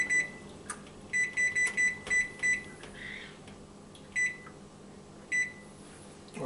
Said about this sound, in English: I'm going to set the timer for 10 minutes.